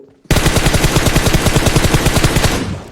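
Rapid automatic gunfire from a mobile shooter video game, a loud continuous burst of evenly spaced shots lasting a couple of seconds with no talk.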